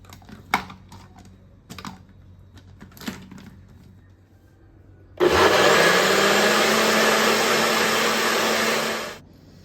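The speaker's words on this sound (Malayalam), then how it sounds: "ഇനി നമുക്ക് ഐസ് ക്യൂബ് ഇട്ടിട്ട് ബ്ലെൻഡ് ചെയ്ത് കൊണ്ടുവരാം." A mixer blender whirs mango lassi with ice cubes, curd and fresh cream, a loud sustained roar for about four seconds that starts abruptly and stops at the end, preceded by a few light clicks and taps.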